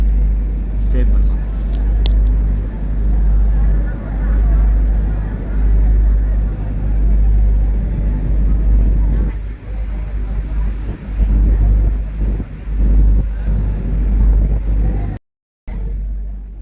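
Steady low engine drone and water rush of a passenger boat crossing from Ernakulam to Vypeen jetty, continuous and fairly loud throughout, with indistinct voices mixed in and a brief dropout near the end.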